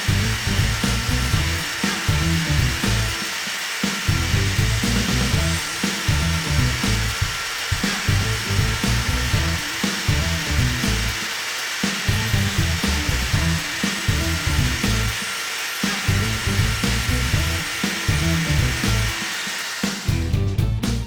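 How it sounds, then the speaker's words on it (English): A Dremel rotary tool grinds plastic light buckets on an Axial Rubicon, a loud high whine running in repeated bursts with short pauses between passes, and no voices. "Back at it with the Dremel."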